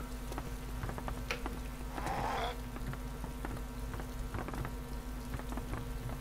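Rain falling in the survival video game DayZ Epoch, a steady hiss of drops on surfaces under a low constant hum, with a brief brighter splash burst partway through; no talk.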